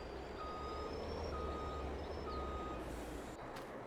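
Repeated reversing beeps from a truck backing up in Farming Simulator 22, a steady evenly spaced series of electronic tones over a constant engine rumble, with a brief hiss near the end.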